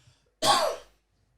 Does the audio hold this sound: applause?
no